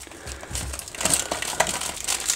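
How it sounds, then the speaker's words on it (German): A sticker is peeled off a Fritzbox router, a close, brief crinkling and tearing rasp that builds over a couple of seconds with no talking. "Die werden wir auch mal vom Aufkleber befreien."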